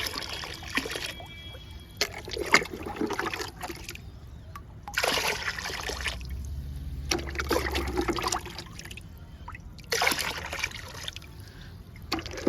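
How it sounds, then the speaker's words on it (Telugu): Liquid plant feed is poured in several separate bursts, splashing into a bucket of water, with quieter gaps between pours. "నాలుగు మొగ్గులు పోస్తున్నానండి"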